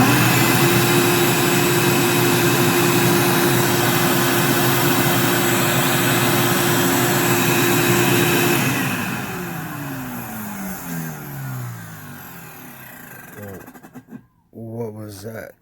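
A Ridgid 5HP shop vac motor runs at a loud, steady high-pitched whine, then shuts off and spins down with a falling tone, followed by a few clunks and rattles close by.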